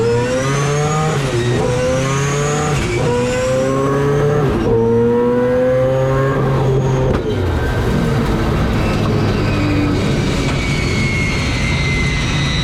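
A four-rotor race car screams through a driving run, its engine wailing high and loud with rising revs, sharp shift breaks and renewed climbs, close and continuous with no talk.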